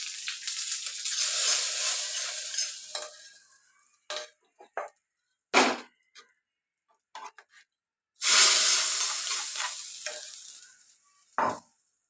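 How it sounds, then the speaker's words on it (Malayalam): Curry leaves dropped into hot oil to temper a Kerala-style chickpea curry, giving bursts of loud sizzling and spluttering that fade, with stirring clinks and short crackles between them. "ഇല ഇട്ട് കൊടുക്കുക അതിന് ശേഷം കറി താളിച്ച് കൊടുക്കുക"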